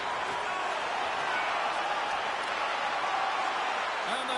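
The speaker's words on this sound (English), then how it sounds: "And the crowd's on their feet, saluting the team after a hard-fought effort this evening." A hockey video game arena crowd roars and applauds in a dense, continuous wash of cheering, with a voice faintly audible under the noise.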